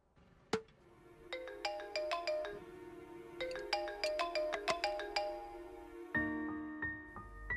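A phone ringtone for an incoming call plays a repeating melodic pattern of bright tones in two bursts, then cuts off as a lower hum takes over near the end; no one speaks.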